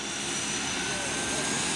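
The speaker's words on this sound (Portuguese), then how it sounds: "neste exato momento, o avião, ele está se preparando para sair" A plane preparing to depart at an airport in Caratinga, Brazil, its engine droning steadily and fairly loud throughout without gaps.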